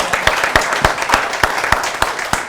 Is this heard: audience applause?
yes